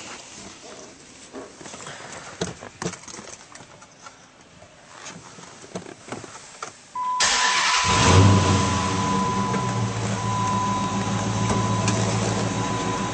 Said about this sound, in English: And now we'll start up this vehicle.